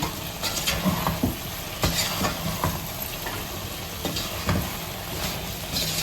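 Ground masala being stirred into boneless chicken pickle in a pot, a soft scraping and mixing sound with repeated spoon strokes over a faint sizzle, close and fairly quiet with no talking.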